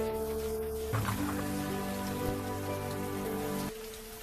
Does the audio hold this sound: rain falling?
yes